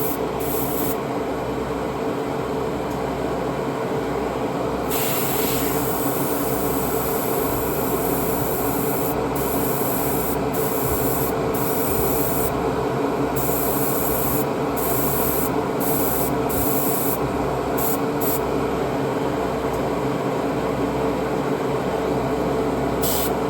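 An airbrush or spray can lays a light primer coat on tiny scale-model parts for a McLaren Senna kit, a continuous close hissing spray with brief breaks and no talking.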